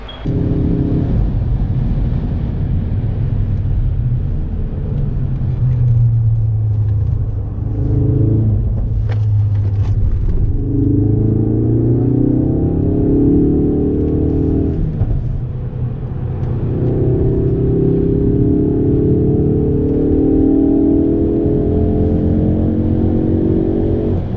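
A car is driven out onto the Silverstone race circuit, heard from inside. A loud, close engine drone rises and falls through several accelerations and gear changes, over a constant road rumble. No talking.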